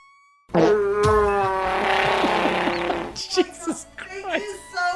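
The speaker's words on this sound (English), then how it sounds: "you so much for that Chewbacca fart" A Chewbacca fart sound effect plays as a stream alert, a long, loud, rasping tone lasting a few seconds, followed by people talking and laughing.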